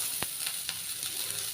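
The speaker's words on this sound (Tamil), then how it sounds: "வெங்காயம் பாருங்க நல்லா இந்த எண்ணெயிலே வதங்கி வரணும்." Onions sauté in hot oil for a goat trotter curry, giving a close, steady sizzle with a few brief stirring scrapes.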